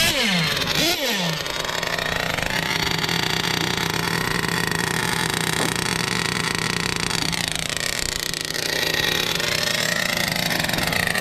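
A Traxxas Jato nitro RC car with an off-tuned carburetor is started, then buzzes loudly and continuously, its high engine whine swooping up and down as it revs, close by.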